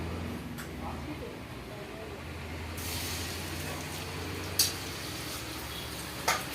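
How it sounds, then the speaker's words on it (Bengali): Prawns fry in hot mustard oil in a wok with a continuous, even hiss of sizzling, and two sharp clicks break through in the later seconds. "কড়াই তেলটা গরম হয়ে গেছে, আমি এখন চিংড়ি মাছটা ভেজে নিচ্ছি।"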